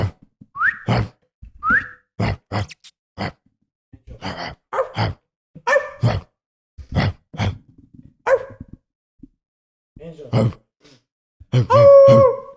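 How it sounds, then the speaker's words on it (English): A tired dog makes a scattered run of short, sharp barks and huffs close to the microphone, broken by gaps of silence, with a few whiny, whistling yelps near the end. "You gotta get her to bark in the mic though"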